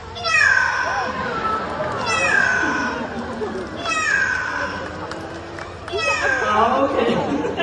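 A parrot imitates a cat with four drawn-out, falling meows spaced evenly a couple of seconds apart, close and clear, with soft background noise between the calls.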